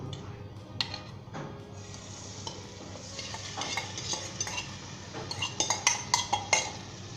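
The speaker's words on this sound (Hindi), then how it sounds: "मैंने पैन ऊपर रख लिया है और मीडियम हीट कर ली है और ये हमारा मैरिनेट हो चुका है" Marinated beef tikka going into a pan on medium heat, with steady stirring and scraping that builds into a quick run of metallic clinks and taps near the end, close and moderately loud, with no talking.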